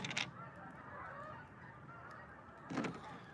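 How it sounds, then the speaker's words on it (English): Geese honk faintly in the distance, with two short bursts at the start and near the end over quiet outdoor background noise. "There's the geese going back home."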